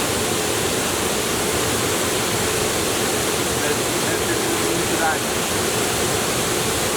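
The Kima Atas waterfall near Manado roars in a steady, dense broadband rush, loud and unbroken for the whole stretch, with a faint voice barely audible underneath.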